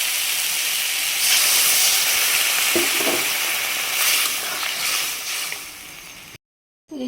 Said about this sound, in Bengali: এখন তো আমি ঝোলটা দিয়ে দিব।